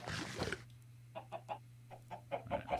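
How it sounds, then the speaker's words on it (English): Chickens clucking in the video game Minecraft, a series of short, soft clucks in an uneven rhythm over a steady low hum, following a brief burst of louder sound at the start. "And I have chickens, so I can eat chickens, I guess."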